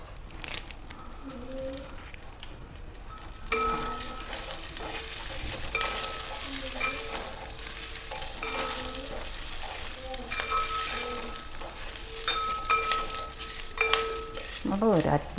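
Curry leaves sizzle in a frying pan for a banana flower and cowpea thoran, with a constant crackle of hot oil under repeated scraping and stirring strokes, close and moderately loud, with faint tonal sounds in the background.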